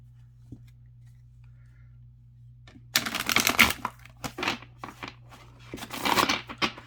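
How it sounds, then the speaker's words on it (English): A deck of stiff cards is riffle shuffled up close, a rapid flurry of crisp flapping clicks that starts after a quiet pause and comes in several bursts. "I heard somebody call this kind of shuffling like a riffler."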